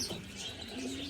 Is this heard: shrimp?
no